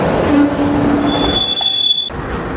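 Freight train wheels squealing in a train yard, a high metallic screech rising over rumbling rail noise for about two seconds, close by with no voices.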